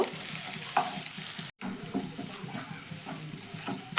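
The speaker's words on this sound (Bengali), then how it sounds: "হালকা একটু ক্যাপসিকামটা ভেজে নেব" Capsicum stir-frying in a hot pan, a steady broadband sizzle with periodic scraping stirs and one brief cut-out partway through, no voices.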